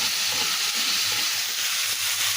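Spice paste masala sizzles and fries in a pan while being stirred for a Bengali vegetable and rui fish recipe, a steady close hiss throughout the brief stretch.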